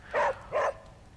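Charlie the dog in Marvel's Midnight Suns gives two quick, close barks in a row over a low background hum, with no talking.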